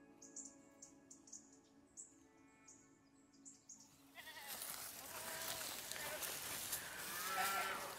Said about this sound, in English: So we raise cashmere goats.